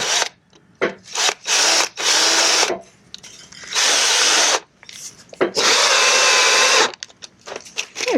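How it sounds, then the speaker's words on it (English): A power drill drives screws into a wooden garden frame, heard in several loud bursts of whirring separated by short pauses, close by, with no talking. "the other person is just going to screw in through the side here"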